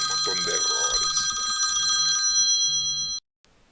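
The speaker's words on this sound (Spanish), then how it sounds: "perdón por el sonido del teléfono" An electronic telephone ring chirps steadily and loudly while someone speaks over it, then cuts off abruptly, leaving near silence.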